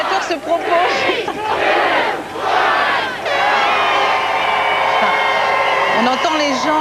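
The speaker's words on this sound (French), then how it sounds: "On entend les gens décompter, hurler, crier, applaudir" A large crowd counts down to the year 2000 on New Year's Eve, shouting, cheering and applauding loudly in rising bursts, voices merging into a continuous roar.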